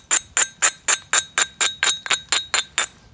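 Large Georgetown flint is struck by direct percussion while a drill is being knapped. About a dozen crisp, glassy clinks ring out in a quick, even rhythm, loud and close with short decays.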